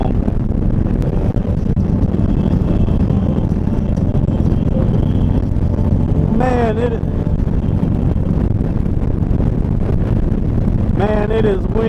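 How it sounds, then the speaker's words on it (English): Strong wind buffets a car driving along a highway on a long road trip, a loud, constant roar of rushing air and road noise, with brief higher tonal sounds breaking through twice near the end. "Man, it is windy today."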